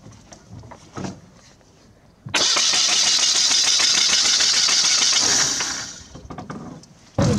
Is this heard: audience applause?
no